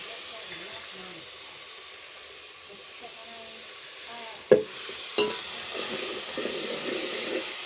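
Ginger, garlic, coconut and coriander masala is stir-fried for a crab curry over a wood-fired clay stove. A steady sizzle runs under scraping stirring, with two sharp metallic clanks partway through.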